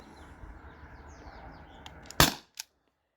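A single sharp crack from a T4E air pistol fired over a chronograph rings out clearly at close range, with a brief smaller click just after and quiet room tone before it.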